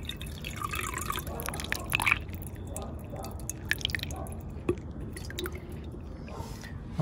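Water trickles slowly at weak pressure while a columnar plum tree is watered in summer. Faint, steady dribbling with scattered drips continues under a person talking.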